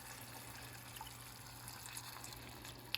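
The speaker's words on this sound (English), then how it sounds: "I just go in with some broth." Broth is poured over quinoa in a cooking pot at a two-to-one ratio, giving a soft, faint, continuous trickle of liquid throughout.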